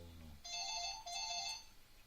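A phone rings with an electronic ringtone, two bursts of a high, tonal melodic pattern, fairly clear over quiet background hum during a FIFA 17 gaming session, with no talking over it.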